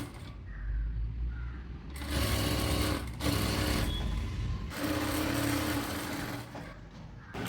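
A sewing machine stitches along the folded edge of a churidhar top, running in several sustained bursts separated by brief pauses, close and steady with no talking.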